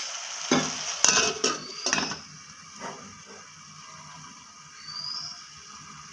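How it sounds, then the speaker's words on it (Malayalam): Breadfruit (kadachakka) thoran is stirred in a frying pan, with close scraping and clinking strokes of a utensil in the opening seconds over a soft sizzle that then fades to a quiet hiss. "ഇടയ്ക്കിടയ്ക്ക് ഒന്ന് ഇളക്കി ഒന്നിച്ച് കൊടുക്കും."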